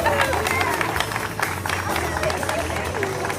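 A crowd applauds loudly at a marathon medal ceremony for the women's 5-kilometre race: sustained, dense clapping mixed with crowd babble, with a voice talking over it.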